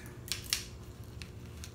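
A pair of scissors makes a few quick, crisp snips while opening a PO box package, faint and close, with short pauses between the cuts against a quiet room background.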